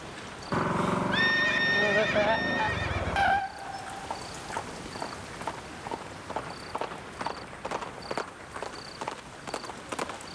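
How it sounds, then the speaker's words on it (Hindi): A horse whinnies loudly and close for a few seconds, then its hooves clip-clop in a steady, lighter walking rhythm that carries on to the end. "सुनाई दे रही है घोड़े की चहल पहल"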